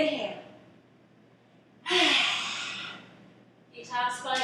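A forceful breath pushed out through an open mouth with the tongue out, lion's breath style in a yoga flow, comes as one loud breathy burst lasting about a second, with softer breathing before and a shorter breathy puff after.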